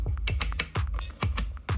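Switches 3D-printed for a TARDIS console prop are flicked one after another, giving a quick run of sharp, close plastic clicks in an uneven rhythm.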